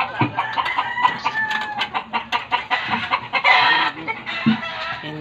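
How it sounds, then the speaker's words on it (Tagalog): Chickens clucking and a rooster crowing close by in an outdoor kitchen area, with overlapping calls in short bursts and no speech. "oh, may manok"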